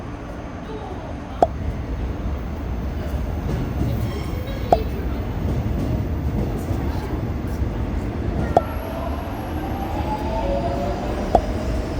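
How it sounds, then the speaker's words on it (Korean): An older Suin-Bundang line subway train rolls into a station with a steady low rumble, a few sharp clanks and a rising whine near the end, heard from the platform amid faint background voices. "지금 죽전 가는 열차가 들어오고 있습니다."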